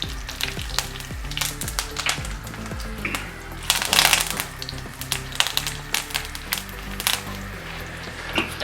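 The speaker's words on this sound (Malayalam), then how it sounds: "കടുക് പൊട്ടി വരുമ്പോഴത്തേക്ക് ഒരു 3 ഉണക്കമുളക് ഇട്ട് കൊടുക്കുന്നുണ്ട്." Mustard seeds and three dried red chilies sizzle in hot oil with curry leaves and asafoetida for a green tomato chutney; a loud, steady frying hiss is broken by sharp, repeated crackles and pops close by.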